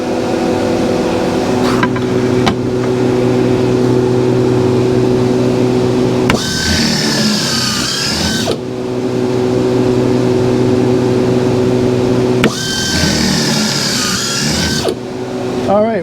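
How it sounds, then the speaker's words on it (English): A power drill boring holes in wood for a microwave drawer cabinet build, heard as loud, close bursts of motor whine that alternate with a steadier humming machine drone, repeating over the clip. "we'll go ahead and get the rest of them drilled"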